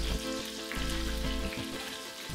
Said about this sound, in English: So you fry them once on each side.